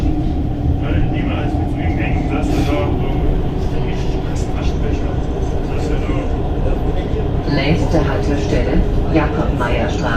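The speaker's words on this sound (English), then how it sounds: "this tram now goes into the Bochum metro tram tunnels" A metre-gauge metro tram from Gelsenkirchen to Bochum rumbles and rattles along continuously into the Bochum tram tunnels, with a loud, steady roar as it runs, while a voice speaks over it.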